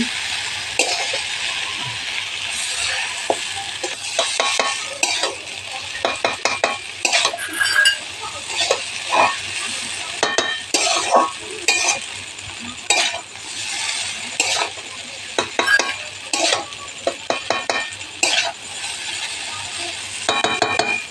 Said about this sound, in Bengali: রিফাইনটা দেওয়ার মানে হলো যাতে না চাউমিনটা কড়াতে লাগে। নেড়ে চেড়ে নিচ্ছি তখন।